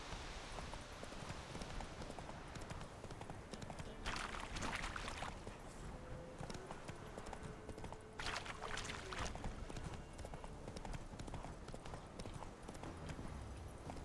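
Roach, the horse in The Witcher 3: Wild Hunt, gallops in a rapid, continuous clatter of hooves, fairly close, with two louder bursts of rushing noise over the running rhythm.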